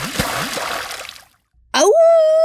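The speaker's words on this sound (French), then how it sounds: "Éclaboussure." A cartoon wolf drops into a pot of boiling soup with one sudden splash and watery spatter, after a stretch of lively music and a brief silence, followed by a sustained ringing tone.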